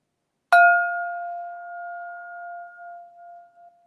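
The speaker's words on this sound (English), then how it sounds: "This is the bell." A meditation bell is struck once, giving a bright metallic strike that settles into a clear, pure ringing tone that sustains and slowly fades over several seconds, alone in a quiet space.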